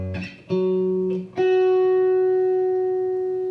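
Electric guitar notes from a slow blues jam in A, a few sustained, slightly distorted notes bending and ringing out, the last one held long and fading slowly.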